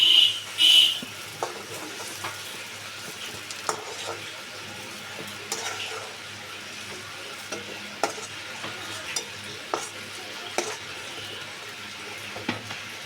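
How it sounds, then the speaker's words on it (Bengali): Brinjal frying in oil, a continuous soft sizzle with a spatula stirring and tapping against the pan every second or so, close and without talk. "বেগুনটাকে আমি একটু ভালো করে বেজে নিই"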